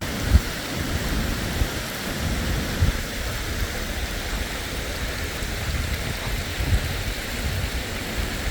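Steady rain pattering down on the West Highland Way in Scotland, a dense continuous hiss with occasional louder drops, no voices present.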